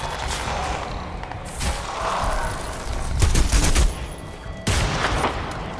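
Gunfire in Crysis 2: a rapid series of loud, sharp shots in bursts with several distinct cracks, amid game background noise.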